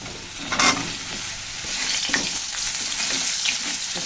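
Sponge gourd pieces added to potatoes frying in hot oil with cumin seeds, a steady sizzle with bursts of stirring scrapes and splashes, close up, with no voices.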